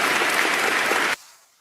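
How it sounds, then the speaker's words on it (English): A burst of dense studio-style applause, loud and steady, cut off abruptly after about a second, during a pop culture talk show. "DVH, you're gonna get a round of applause for this comment."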